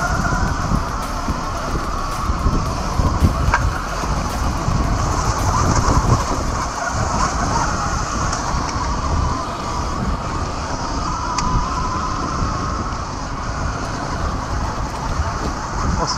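A Sur-Ron electric dirt bike, fitted with a new front fork, ridden on a test run outdoors; a steady rushing drone of motor, tyres and wind buffeting the microphone runs throughout, fairly loud and continuous without talk.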